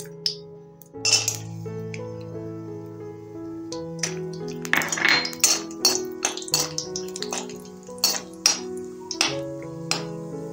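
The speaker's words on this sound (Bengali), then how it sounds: "কাজুটা ভাজা হয়ে গেছে।" Cashews frying in white cooking oil in a pan, with bright metallic clinks and taps of a spoon against the pan over a low steady hum, the strikes scattered and irregular, close and fairly loud.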